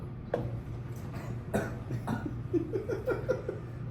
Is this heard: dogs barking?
no